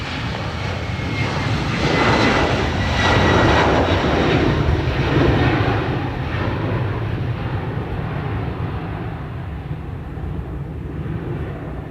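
A jet airliner departing runway 28 right at Dublin Airport roars loudly with a broad, sustained engine rumble that swells over the first few seconds and then slowly fades as it climbs away.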